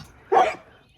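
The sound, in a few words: dog making woo-woo sounds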